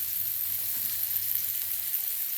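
Breadfruit pieces fry in hot coconut oil with a steady, close, continuous sizzle and no voices.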